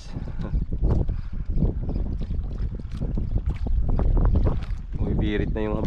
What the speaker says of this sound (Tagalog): Hangin na guys.